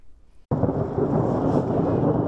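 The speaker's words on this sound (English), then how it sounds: "Thunder, snow, and flashing skies." Thunder during a winter storm with snow and lightning over Ann Arbor, beginning as a sudden loud crack after a brief quiet lead-in and then rolling as a sustained, heavy rumble.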